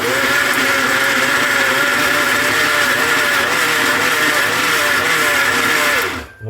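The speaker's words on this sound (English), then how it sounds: "let's go with the blender first" An electric blender whirs continuously, loud and close, as it mixes Christmas fruit cake batter, its motor pitch wavering slightly before it switches off abruptly at the end.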